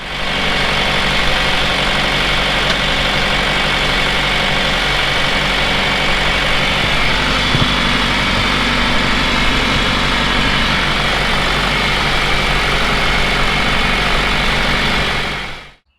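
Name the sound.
farm tractor engine idling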